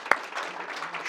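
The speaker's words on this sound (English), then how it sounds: "Let's give it a round of applause" Audience applause at a live SketchUp Style Builder presentation, a steady patter of clapping from a modest room crowd with one sharper clap near the start, continuing for about a second.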